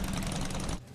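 Harley-Davidson motorcycle engine revving at a Harley 110th anniversary celebration, a loud, close, rough rumbling burst with rapid knocking pulses that cuts off abruptly near the end.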